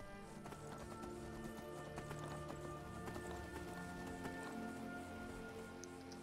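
Hooves of a horse in Skyrim clip-clop in a steady trotting rhythm, quiet and fairly even, set against a constant low ambient background of the game world.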